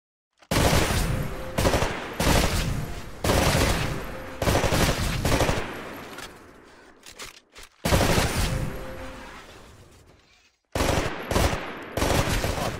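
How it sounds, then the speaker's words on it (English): Rifle fire in the Titanfall video game at shooting-range targets: loud repeated bursts of automatic gunfire separated by short pauses, close and dominant with no talk. "Switch to your rifle. Destroy all of the targets in the shooting range."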